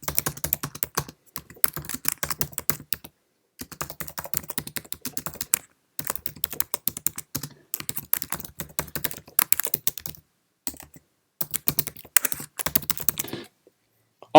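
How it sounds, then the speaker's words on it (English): A Mac computer keyboard is typed on in quick bursts of close, crisp key clicks while a caption is entered, with brief pauses between runs. "Let's type the caption."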